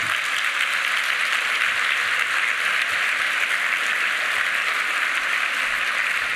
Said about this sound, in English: I'd like you all to give yourselves a round of applause.